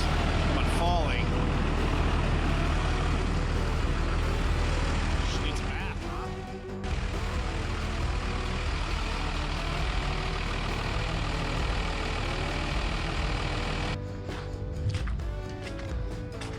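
A 1987 Monte Carlo with a 5.3 V8 cranks, catches and settles into a loud, rough idle close by, with a steady heavy engine rumble throughout and a brief dip in the middle.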